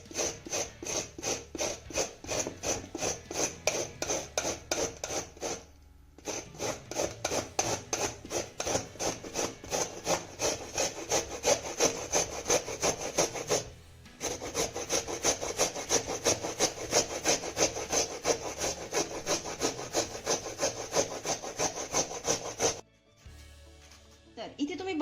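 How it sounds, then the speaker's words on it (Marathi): Amla (Indian gooseberries) grated on a small hand grater, a fast rhythmic rasping scrape repeating close by in long steady runs, broken by two brief pauses and stopping near the end. "त्यासाठी इथे मी ना छोट्या किसणीचा वापर करतेय, म्हणजे आपले आवळे छान असे बारीक किसले जातील."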